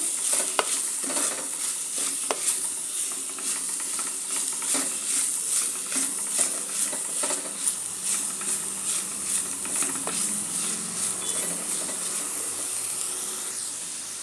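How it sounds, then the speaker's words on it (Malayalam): Onions with a pinch of salt sautéing in a pan for a coconut squid curry, a continuous hissing sizzle broken by regular scraping stirs of a spoon, fairly close and loud, no speech. "നന്നായി ഇളക്കി കൊടുക്കുക."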